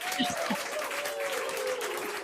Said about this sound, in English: I'll give you an applause for that